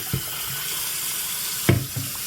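Tap water runs into a steam cleaner's tank in a bathroom, a close continuous hiss of flowing water with a couple of knocks and splashes.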